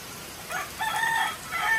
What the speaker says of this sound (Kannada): ನಮ್ಮ ಕೋಳಿ ಗುಡ್ ಮಾರ್ನಿಂಗ್ ಹೇಳ್ತಾ ಇದೆ